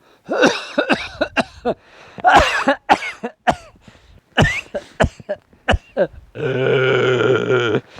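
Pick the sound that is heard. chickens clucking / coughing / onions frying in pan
coughing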